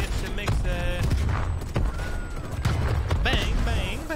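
Rapid explosions and gunfire from the War Machine grenade launcher in Call of Duty Cold War, a dense barrage of blasts and bursts layered over game sounds, with a voice talking throughout.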